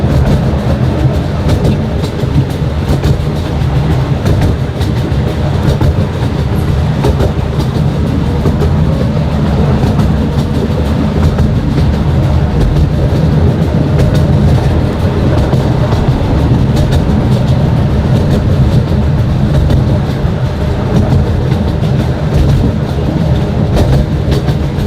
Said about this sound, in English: I'm really glad I got to ride the train today.